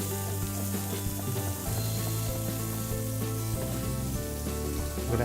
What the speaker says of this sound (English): I can hear those meatballs sizzling